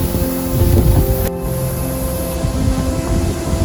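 Curug Cikaracak, a waterfall in Indonesia, roars as a steady broadband wash of falling water with wind buffeting the microphone, loud and continuous throughout.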